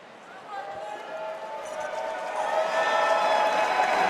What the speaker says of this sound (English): Crowd's very happy